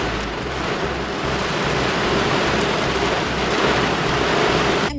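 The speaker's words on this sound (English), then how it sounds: "Hammered by wind and rain that caused people to run for their lives." Heavy rain and wind from a gale force storm on New Zealand's South Island, a dense steady roar of rainfall with low rumbling gusts throughout, loud and continuous, ending abruptly.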